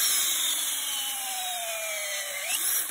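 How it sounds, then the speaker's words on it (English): A cordless drill fitted with a 1mm auger bit bores into a camphor laurel tree trunk, its motor whining steadily and close, shifting pitch slightly as the bit bites into the wood, with no talking. "I've got a 1mm auger bit in my cordless drill"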